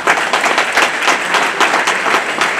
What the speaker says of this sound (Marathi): त्यामुळे तुमच्यासाठी जरा जोरदार टाळ्या झाल्या पाहिजे